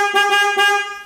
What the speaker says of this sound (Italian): Poi ho messo anche il clacson qui, che mi piace tanto.